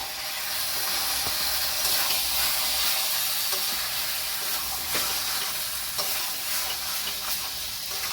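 Chicken sautéing in a pan over medium gas flame with salt and paste, giving a steady broadband sizzle and frying hiss, with occasional soft stirring scrapes throughout.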